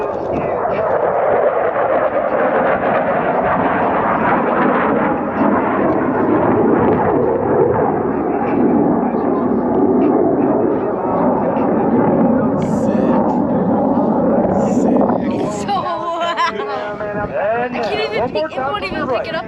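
An F-16 fighter jet at an airshow roars past in a loud, sustained rumbling blast that swells and holds for many seconds before easing, with an announcer and crowd voices talking underneath and after.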